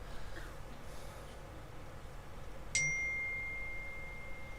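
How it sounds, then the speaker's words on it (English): A single bright electronic ding from a mobile phone, sharp onset then a long fading ring, over quiet room hiss during a snooker game. "As my phone dings off again."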